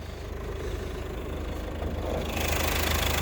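A Ford Kuga TDCi diesel engine idles steadily up close, a low rumbling hum with a faint knocking rhythm, growing slightly louder near the end.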